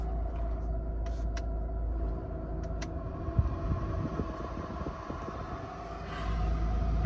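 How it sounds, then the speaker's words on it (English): The blower motor fan of a Mercedes W124 runs with a steady, close whirring hum and low rumble that holds throughout, with faint clicks over it and no talk. "And thankfully my fan is working."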